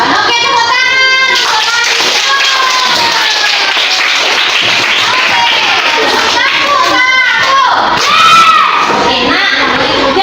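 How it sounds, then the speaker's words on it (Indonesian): A classroom of children clap their hands together in a loud burst, mixed with kids shouting and chattering throughout. "Oke, tepuk tangan."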